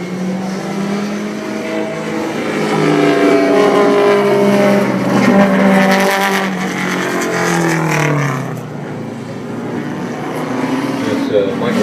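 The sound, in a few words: 1973 Spitfire race car engine at a road race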